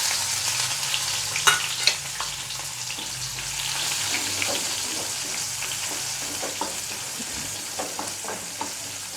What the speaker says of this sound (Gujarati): મરચાં તેલમાં એકદમ સાતડી લેવાના છે